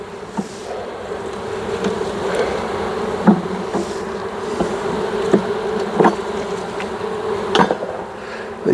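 A dense, low buzzing of many honey bees drones on steadily up close during a hive inspection, with occasional knocks and taps breaking through the hum.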